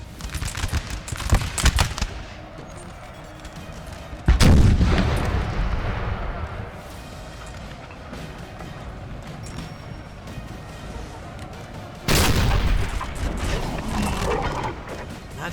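Booming artillery salvos and crackling musket volleys from a Napoleonic battle in the video game Napoleon: Total War, with two heavy blasts hitting hard amid continuous distant gunfire and rumble.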